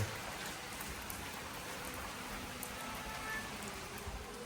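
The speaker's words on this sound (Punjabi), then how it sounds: "ਮੀਂਹ ਪਈ ਜਾਂਦਾ" Steady rain falls as a soft, even hiss with scattered drops tapping, moderately quiet and continuous, no voices.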